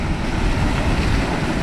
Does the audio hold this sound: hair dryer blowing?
no